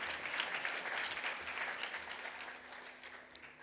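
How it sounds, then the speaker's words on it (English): Sustained audience applause fills the hall at an opening forum on internet freedom in Africa, a steady dense wash of clapping at moderate level with no voices over it, fading slightly toward the end. "You might want to clap for them, otherwise no lunch for you."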